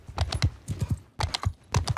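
Horse hooves drum in quick uneven bursts as a mount gallops in Mount & Blade II Bannerlord, crisp clip-clop strikes in clusters of three or four with a short gap before the next run.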